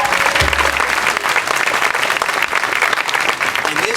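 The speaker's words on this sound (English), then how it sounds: "Let's give our Board of Education a big round of applause" A political rally crowd applauds the Board of Education, a loud, sustained wash of many hands clapping continuously throughout, with a brief low boom near the start.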